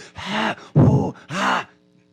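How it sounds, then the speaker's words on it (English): Three loud, drawn-out breaths or groans close to the microphone, each rising and falling, then quiet. "we don't need to hear the heavy breathing"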